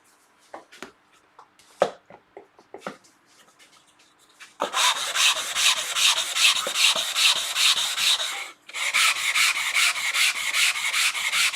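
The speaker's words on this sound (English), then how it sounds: "This is only 240 grit sandpaper. It's not really coarse." Hand sanding wood with 240 grit sandpaper: after a few scattered taps and knocks, a steady, loud rhythmic scratching of paper on the wooden surface starts and continues, with one brief pause near the end.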